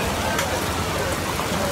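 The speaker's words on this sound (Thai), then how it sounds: "ฝนตกหนักจริง" Heavy rain pours steadily at an outdoor street restaurant on Jalan Alor in Kuala Lumpur, a dense constant hiss with scattered drops pattering on surfaces nearby.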